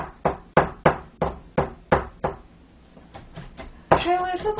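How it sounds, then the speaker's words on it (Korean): Shrimp minced with a knife on a cutting board for Chinese shrimp balls, a steady series of sharp chopping thuds about three per second, close and crisp, followed by brief handling noise. "그냥 저희가 야채 다지는 것처럼 새우를 다져주시면 됩니다."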